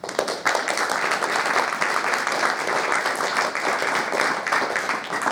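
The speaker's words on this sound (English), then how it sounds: "I don't think we can give them too many rounds of applause. So if we could give them one more, that would be great." An audience at a Poetry Moves reading gives the volunteers a sustained round of applause, loud dense clapping from start to finish.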